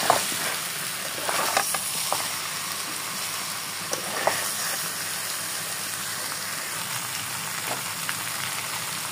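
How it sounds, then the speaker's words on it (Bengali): Fried potato pieces and jackfruit stirred in a hot pan with oil, a continuous close sizzle broken by soft scraping stirs and occasional small taps of the spoon. "এবার এর মধ্যে দিয়ে দেবো ভেজে রাখা আলুগুলোকে দিয়ে এরপর খুব ভালো মতো একসাথে নাড়িয়ে সব ভালো মতো ভেজে নিতে হবে"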